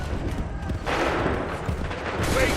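Musket volley gunfire in Assassin's Creed 3, a dense burst of overlapping rifle shots cracking out together, then rolling rumble and a second wave of shots near the end, loud and close.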